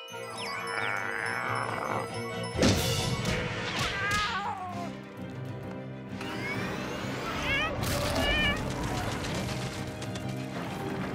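A cartoon cat from Kid vs. Kat meows and caterwauls in several wavering cries, mixed with whacks, crashes and a jingle over a busy animated soundtrack.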